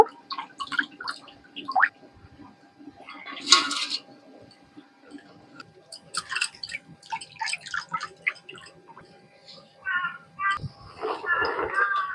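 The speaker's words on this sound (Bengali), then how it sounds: "এই জলটা ঝরিয়ে নেব" Water drains from soaked rice into a pot, heard as scattered drips, splashes and light clatters of metal utensils, quiet to moderate, arriving in short bursts with gaps between.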